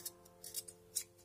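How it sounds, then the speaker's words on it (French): Scissors snip through threads in a few quiet, sharp clicks, spaced unevenly and heard close up against near silence. "on va prendre la paire de ciseaux et on va couper tous les fils"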